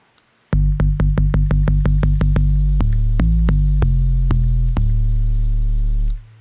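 Sub bass notes with a small amount of white noise blended in, a deep droning hum with a hissy upper layer, struck in a quick repeated pattern and then held, loud and close, no voices.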